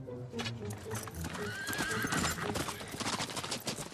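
Cartoon horse whinnies loudly, with a rising neigh in the middle, over steady clip-clopping hooves and busy background sound throughout.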